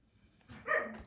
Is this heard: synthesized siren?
no